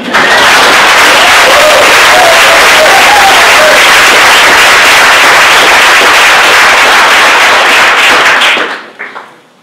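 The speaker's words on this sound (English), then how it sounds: "I would invite you to give her one more round of applause." A roomful of people at an evening lecture event on cities applaud loudly and continuously, a thick, close wash of clapping that holds steady before tapering off abruptly near the end with a few last claps.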